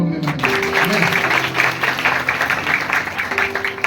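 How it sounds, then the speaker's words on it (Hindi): A church congregation claps together in a sustained round of applause, with a tonal hum of music or voices running underneath the hands. "ताली बजा के"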